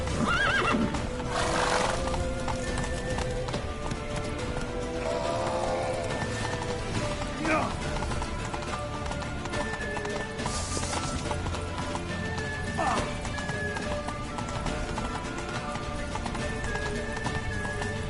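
Horse whinnies and galloping hooves in The Witcher 3, set among dense game music and shouted battle dialogue; neighs break through repeatedly over the clip-clop of a running horse.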